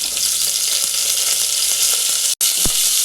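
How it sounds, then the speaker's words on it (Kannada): About ten garlic cloves and a chopped onion fry in a pan, making a loud, dense, hissing sizzle that cuts out for an instant, then resumes with a soft knock. "ಎಲ್ಲ ಒಂದು ನಿಮಿಷ ಚೆನ್ನಾಗಿ ಫ್ರೈ ಮಾಡ್ತೀನಿ"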